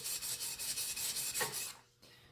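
Steady rhythmic rasping strokes of a knife blade scraping across a sharpening stone on a Konigsberg Crutch guided sharpening system, close up, repeating about every quarter second before stopping.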